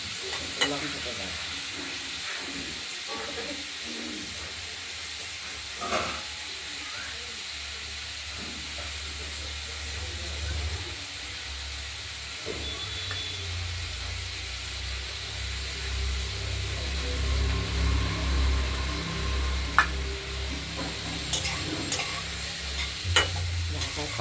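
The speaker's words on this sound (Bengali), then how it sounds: "এই বারে বারে ঢাকনা খুলতে হবে আর নাড়তে হবে, এটাই হলো ভাজার কাজ" Chopped onion stalks fry in a kadai with a soft, steady hiss and occasional stirring clinks, quiet and continuous with low background rumble.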